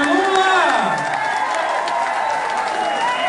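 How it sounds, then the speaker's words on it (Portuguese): A crowd at the São Bernardo book launch for Marisa Letícia cheers and applauds to welcome President Lula, a steady roar of voices and clapping with a loud voice ringing over it throughout. "uma salva de palmas para o nosso grande guerreiro, o presidente Lula!"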